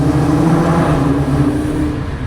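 A Nissan GT-R's engine runs loud and close for a couple of seconds, a steady low-pitched drone with a rough, rumbling texture and no talk over it.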